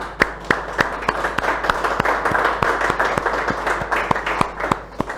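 Crowd applause in a courtroom-style studio setting, steady dense clapping with sharp individual claps standing out, continuous throughout and fairly loud.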